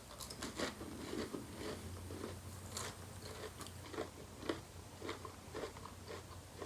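Quiet, close crunchy bites and chewing of a chili cheese onion ring burrito bowl, irregular crisp crunches over soft background noise.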